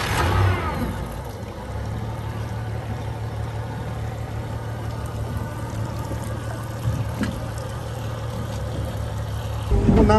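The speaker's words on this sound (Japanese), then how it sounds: "とても静かなエンジンですね。" A Honda 250 hp outboard engine runs on a Yamaha FR24 boat, holding a steady low drone throughout with a brief louder swell at the start and end.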